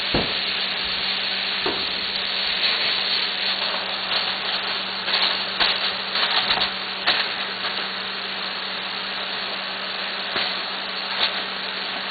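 Steady sizzling of fajitas frying in a pan, with intermittent scraping and clattering as they are stirred and tossed around.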